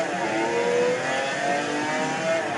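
A race car engine in a racing video game on the Le Mans circuit, revving steadily at a high pitch as it approaches a tight bend, loud and continuous with no talk.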